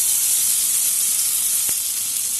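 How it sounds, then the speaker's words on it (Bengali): Brinjal (eggplant) slices frying in oil in a pan: a continuous bright hissing sizzle, steady and loud, close to the pan, with one faint tap near the end. "আমি বাগুন ভাজা হতে থাক।"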